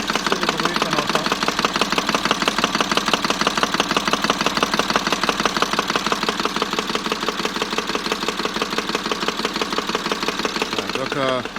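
Peugeot 407 Coupé 2.7 V6 HDi diesel idling with a faulty harmonic damper pulley, a loud rapid metallic knocking like a jackhammer repeating evenly over the engine noise, close up and sustained.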